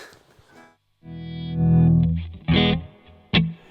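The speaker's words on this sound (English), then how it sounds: "get the guitar running through my effects" Distorted electric guitar notes run through effects, a sustained chord swelling loud, followed by two sharp, bright struck chords with fuzzy decay.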